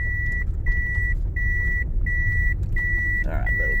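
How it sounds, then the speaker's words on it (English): A mini excavator's dashboard warning gives a steady series of loud, evenly spaced electronic beeps, about five in a row, over a low engine hum. "I wish I could turn this stupid beeping off"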